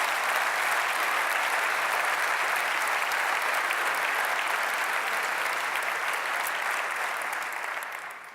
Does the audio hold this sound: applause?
yes